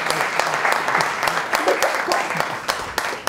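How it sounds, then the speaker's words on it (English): Audience applause at a startup pitch session in Lisbon, a steady wash of clapping lasting a few seconds with sharper individual claps standing out and a voice briefly heard underneath. "Round of applause."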